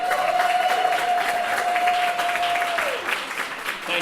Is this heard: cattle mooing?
no